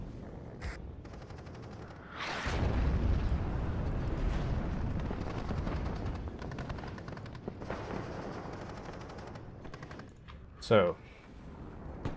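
Mortar fire in the Cold War strategy game WARNO hits as a deep, rolling boom that rumbles on for several seconds, with keyboard clicks and a sharp tap later and a voice speaking briefly.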